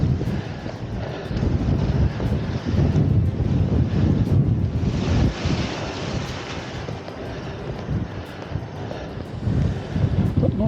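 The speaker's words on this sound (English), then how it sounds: "The wind has picked up, became pretty gusty." Gusty wind buffeting a coastal cliff top on Fuerteventura, a loud, steady roar with surging gusts that swell and ease throughout, heard close on the microphone with no talking.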